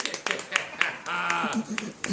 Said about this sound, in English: Hey, that's cheap applause.